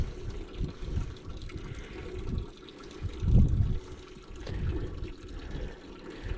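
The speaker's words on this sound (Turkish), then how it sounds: "Bu yağmur iyi olacak inşallah." Rain falls on a cattle pasture in November, a steady diffuse patter with scattered low thumps and rustles, close and moderately loud, with no voices.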